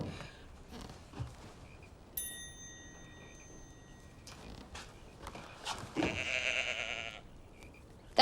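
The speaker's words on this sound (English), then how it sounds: "That's Cyril, the sheep" A sheep bleats in a couple of short, moderately loud bursts amid a busy indoor soundtrack with a chiming tone, with no talk over it.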